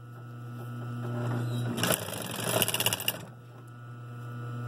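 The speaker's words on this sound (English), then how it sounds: "make sure you sew your fabric and your liner on the bias" A sewing machine stitching fabric and liner together on the bias, a close burst of rapid rhythmic mechanical whirring and clatter lasting over a second over a steady electrical hum.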